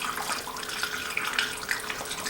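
Water poured through a funnel into a jug while making orange mead gives a steady, close, splashing rush of liquid that runs unbroken for a couple of seconds, with no talking.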